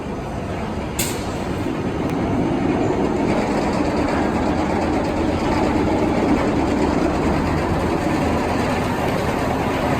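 Goliath roller coaster train in motion, a steady loud roar and rattle of the cars running on the track, sustained for the whole stretch with no talking.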